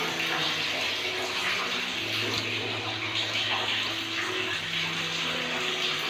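Leftover water runs and splashes steadily out of a cut copper pipe after the supply has been shut off, a continuous close gush with no talking over it.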